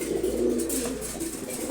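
Pigeons of mixed breeds, including red checkers, racers and Giribaz, coo steadily in a loft, a low continuous murmur with a few brief higher calls over it.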